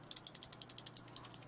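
Kailh mechanical keyboard switches are pressed repeatedly, giving a steady, evenly spaced train of crisp but slightly dull clicks heard close and alone, with a low hum underneath.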